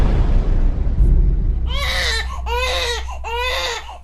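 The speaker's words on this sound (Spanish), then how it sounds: "La madre podía escuchar los gritos de dolor y desesperación de uno de sus bebés" A newborn baby cries in pain in short wailing bursts, three rising cries over a low, rumbling background.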